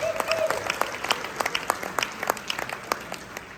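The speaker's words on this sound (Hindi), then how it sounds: "आप तालियां जो अब बजाएंगे वो इनकी बेगमात के लिए बजाएंगे" Audience applause at an alumni convention in Washington D.C., a hall full of clapping with distinct individual claps standing out, moderately loud and steady across the short stretch, no talking over it.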